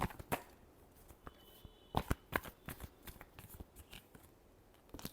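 Tarot cards being shuffled by hand, a quiet series of close, crisp riffling flutters and sharp snaps in uneven bursts over several seconds, no talk.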